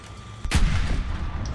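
Tank cannon firing in the video game War Thunder from an M41 Walker Bulldog, a single sharp booming shot that rings out and decays over a low rumbling engine background.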